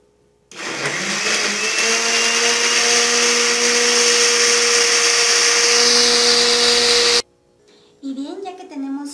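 A blender grinds chipotle chili sauce with a loud, steady whirring roar for about seven seconds, then stops, and a voice follows.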